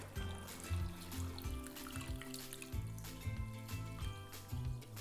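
Water poured from a container into a pot of Polish smoky potato soup, a steady trickle and splash for a few seconds, faint and close, with a low musical hum underneath.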